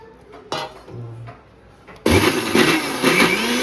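Kitchen blender grinding cashews, melon seeds, poppy seeds and spices into a paste for biryani: a few brief clunks and short whirs, then the motor roars up loud and grinds steadily at full speed.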